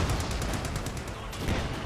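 Mortar and machine gun fire from a Company of Heroes 2 battle form a dense, continuous wash of distant gunfire and rumbling blasts, steady and moderately loud with no clear gaps.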